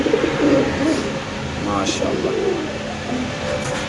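Low, repeated pigeon coos murmur through the clip alongside background chatter and a brief higher bird call.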